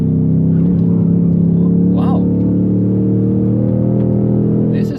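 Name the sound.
car engine rev matching on downshift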